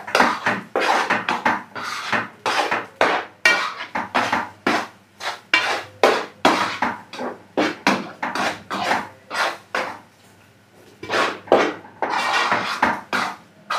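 Spiced liver mixture stirred in a pan for Alexandrian-style liver, a utensil scraping and clanking against the pan in quick repeated strokes, close and fairly loud, with no talking.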